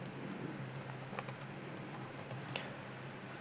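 Quiet, rapid keystrokes patter on a computer keyboard while code is written, with soft irregular clicks and a few sharper taps in close, low-level room tone.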